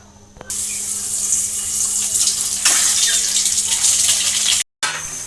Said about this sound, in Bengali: তেলটা গরম হয়ে গেছে, এখন এর মধ্যে ডিমগুলো দিয়ে দিব।